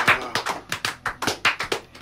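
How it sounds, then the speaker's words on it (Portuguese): Hand claps for Valdívia, a former Brazilian number-10 footballer, in a comedy impressions setting: about a dozen sharp, fairly regular claps over two seconds, close and moderately loud, with no talk. "Palmas para o Valdívia"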